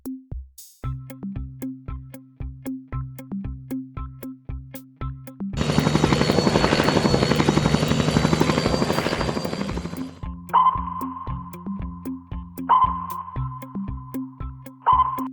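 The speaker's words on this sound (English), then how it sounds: "helicopter" A helicopter's rotor beats a rapid, steady chop that swells into a loud, dense whine of turbine noise mid-clip before the chopping returns alone.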